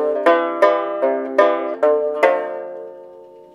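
Open-tuned banjo picks out the chord sequence of a song, six bright plucked notes at a steady, unhurried pace, each ringing on before fading out alone.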